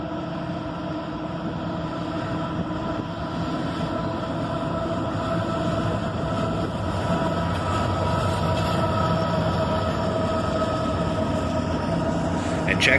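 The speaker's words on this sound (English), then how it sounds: "check out that awesome sound as 4003 roars across the bridge with a 5-unit lash-up" Loud, steady droning rumble of diesel locomotive NS 4003 leading a five-unit lash-up across a bridge, engine tones holding constant and growing slightly louder over time.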